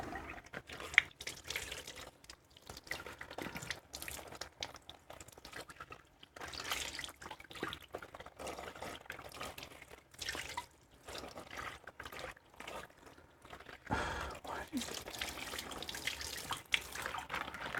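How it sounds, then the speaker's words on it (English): Tap water runs into a kitchen sink as steak juice is rinsed out, a faint steady stream with irregular splashing and dripping that continues for the whole stretch. Nobody speaks. "get rid of this into the sink and wash some of the juice out"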